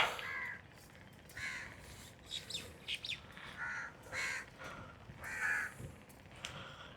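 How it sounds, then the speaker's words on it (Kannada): Crows caw repeatedly in short, harsh calls during a quiet morning bicycle ride along the Sharjah Corniche, several birds spaced apart at moderate distance, fairly faint against a calm background with no talking. "ಇಲ್ಲಿ ಕಾಗಿ ಸೌಂಡ್ ಕೇಳಿಸ್ಲಾತಾವ್ರಿ"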